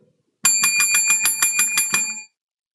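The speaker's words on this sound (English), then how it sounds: "ring that bell" A bell is rung in about nine rapid, evenly spaced bright rings that stop abruptly, each with a metallic shimmer, close and loud in an otherwise quiet room.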